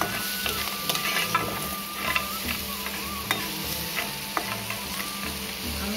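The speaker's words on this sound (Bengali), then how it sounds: "কাঁকড়াটা ভালোভাবে ভাজা হয়ে গিয়েছে।" Crab pieces fry in a pan with a steady, close sizzle, while a utensil stirs and taps against the metal now and then. No one speaks.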